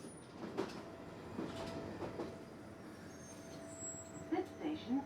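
A London Underground train arriving at East Finchley station, with a low rumble of rolling wheels and several sharp metallic squeals as it brakes near the platform.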